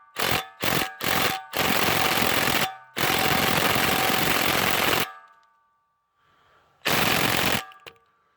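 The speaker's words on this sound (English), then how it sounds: "So I'm going to try the impact wrench on this." A pneumatic impact wrench hammers at a stuck plug on a 3-point auger gearbox in several loud, close bursts, a few short and two long, with a quiet gap before a final burst.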